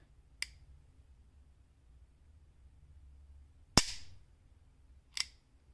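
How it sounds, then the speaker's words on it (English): Three sharp, isolated metallic snaps from the trigger of a Smith & Wesson 3913 pistol being dry fired, spaced a few seconds apart over a low background hum, with the middle snap the loudest. "the trigger just snaps"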